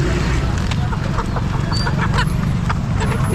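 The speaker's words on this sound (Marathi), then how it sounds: "प्युअर गावरान कोंबडी आहे" Desi gavran hens at the Chakan poultry market cluck faintly amid a dense, loud wash of crowd chatter and market bustle.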